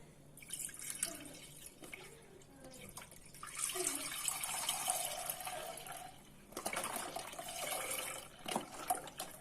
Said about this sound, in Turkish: Sütümüzü tenceremize dökelim.